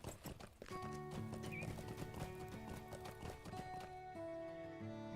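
In The Lord of the Rings Online, a horse's hooves pound in a steady galloping rhythm under sustained game music, close and fairly loud.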